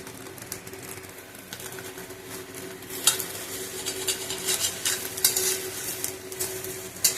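Eggs frying in a home kitchen pan, with soft sizzling under scraping and stirring, intermittent clinks of utensil against pan and a few sharper knocks, fairly close, no talk.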